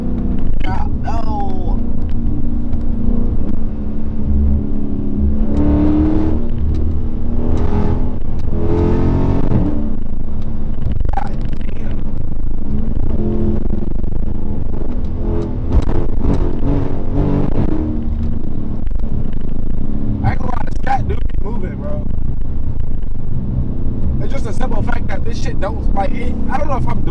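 A Dodge Charger Scat Pack with the 392 engine revs while sliding through turns. The engine rumbles and surges in repeated bursts, close and loud, under frequent talk inside the car.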